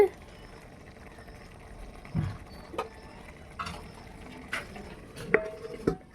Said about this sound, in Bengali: একটু জল জল দিয়ে দিলাম এখানে কিন্তু আমি গরম জল ইউজ করছি